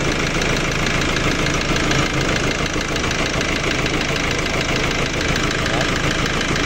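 A Nissan Navara engine runs with an uneven idle as wiring near the EGR is disturbed, a loud close mechanical rumble with a knocking texture that holds steady throughout.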